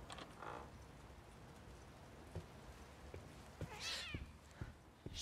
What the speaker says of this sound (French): Ah, le chat. Nice to see you too.